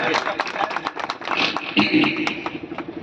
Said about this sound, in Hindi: जोरदार ताली बजा करके मनोज जी के सम्मान को बढ़ाइए